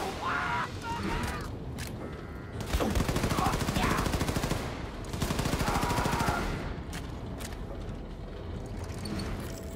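Automatic gunfire in the Wolfenstein II game, long rapid bursts of rattling shots in two loud stretches with shorter volleys between, under a steady backdrop of combat noise.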